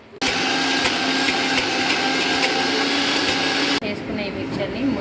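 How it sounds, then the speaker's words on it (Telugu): A mixer grinder blends a sweet mixture with a loud, steady high-pitched whirring drone that starts abruptly and cuts off after several seconds, leaving quieter room sound. "దీన్ని మిక్సీ పట్టుకోవాలి."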